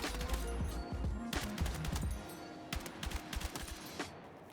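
M277 rifle fired in a video game, rapid bursts of automatic gunfire giving way to lighter tap-fire shots, with mechanical clicks, all fairly quiet in the mix.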